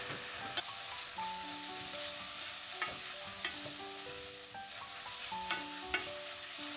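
Onions salted and stir-fried quickly over medium-high heat for homemade curry roux, a continuous soft sizzle broken by repeated spatula scrapes and taps against the pan, close and unaccompanied by speech.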